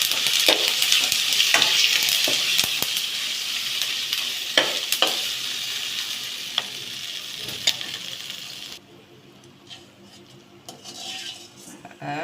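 A pan sizzles steadily while a spoon scrapes and clinks against it repeatedly as bitter gourd fries with sesame seeds; the sizzling drops away near the end.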